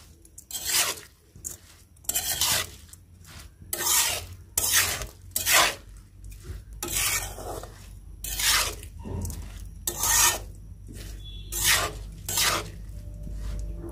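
A spatula scrapes rhythmically around a wok as khichuri with a little oil is stir-fried for children's food, about a dozen loud, close strokes repeating roughly every second with faint sizzling between them.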